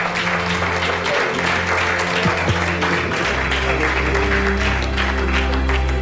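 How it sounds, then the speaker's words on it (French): Applause for the winning team on a reality race show finishing in Moscow, a full steady round of clapping from a group, loud and continuous, with a low hum and brief voices underneath. "Je pense qu'on peut vous applaudir."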